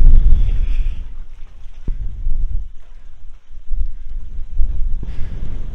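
Strong wind gusts buffet a microphone on top of a viewing tower in Hamburg, producing loud, low rumbling bursts of wind noise that swell and fade unevenly throughout.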